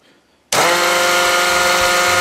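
A rotary power tool spinning at about 13,000 rpm starts abruptly after brief quiet, then holds a loud, steady high-pitched whine with a slight wavering buzz.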